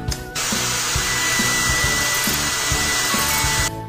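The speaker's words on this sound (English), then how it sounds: "Turn on the hair dryer." A hair dryer in a cat hair salon video game whirs loudly and steadily for a few seconds, starting and stopping abruptly over a rhythmic game music loop.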